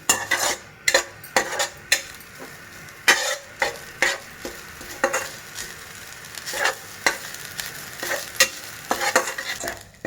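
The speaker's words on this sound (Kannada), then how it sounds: "ಈ ಥರ ಕಲರ್ ಚೇಂಜ್ ಆಗೋವರೆಗೂ ನಾವು ಕೊಬ್ಬರಿನ ಚೆನ್ನಾಗಿ ರೋಸ್ಟ್ ಮಾಡ್ಕೋಬೇಕಾಗುತ್ತೆ." Grated coconut being stirred and roasted in a pan for rava unde, with repeated scraping strokes of a spatula against the pan over a faint steady sizzle, close and clear with no talking.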